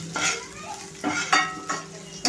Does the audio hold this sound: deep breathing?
no